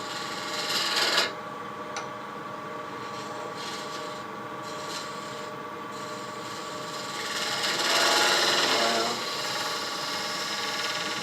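A scraper cuts boxwood spinning on a wood lathe, a continuous rough scraping hiss over the motor hum, swelling louder in the second half.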